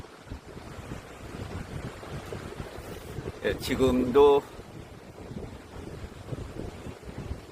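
Rough sea waves and wind along the coastal road of the Byeonsan Peninsula, a steady rumbling wash of surf and wind noise, with someone talking briefly over it.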